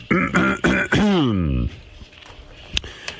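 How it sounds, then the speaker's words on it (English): A man clears his throat in a few rough, throaty bursts followed by a drawn-out vocal rasp, close to the microphone, then a couple of faint clicks and quiet room noise. "have to clear my throat"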